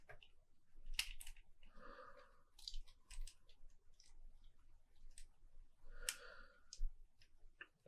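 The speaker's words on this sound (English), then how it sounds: "this should click here just a little bit" Small plastic Gunpla model kit parts snap and click together up close, a series of sharp, quiet clicks and light rustles spaced irregularly over several seconds.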